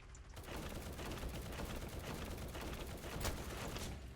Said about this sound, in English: it's got this explosive cannon and machine gun here